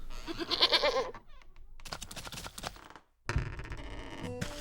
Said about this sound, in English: Sounds more like a sheep than a goat.